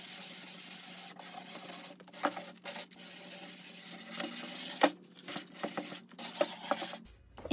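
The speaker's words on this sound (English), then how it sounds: "I'm just using 220 grit sandpaper to smooth out any imperfections" Hand sanding of a wooden Jacobean buffet with 220 grit sandpaper, with repeated short rubbing strokes in an uneven rhythm over a low steady hum, close and moderately quiet.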